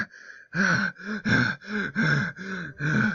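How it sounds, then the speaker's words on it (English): A person waking in terror gasps again and again, about seven ragged, voiced breaths in an uneven rhythm, loud and close with brief gaps between them. "Jeff woke up screaming, gasping."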